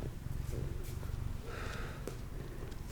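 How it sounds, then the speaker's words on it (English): A cat purrs close up with a steady low rumbling pulse, soft and continuous, with faint rustling on top. "Start him purring again."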